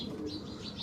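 Pet pigeons coo and chirp close by while feeding on a homemade paratha, soft overlapping calls against a dense, busy background.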